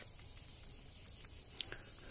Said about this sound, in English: The weird ambulance sound of cicada choirs kept her company